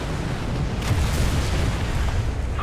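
A tank shell explosion in War Thunder, heard near the IS-6 tank, comes as a broad, loud roaring rumble that holds steady for a couple of seconds with a sharper crack partway through.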